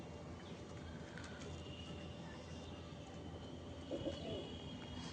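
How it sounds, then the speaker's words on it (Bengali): A pair of Kaldama pigeons coo softly in a home loft. A short, faint, low coo rises near the end over a steady background hum. "পায়রা"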